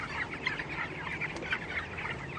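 Young chickens on a poultry farm cluck and peep quietly at night, a scattered, soft chorus of short calls against low background hum.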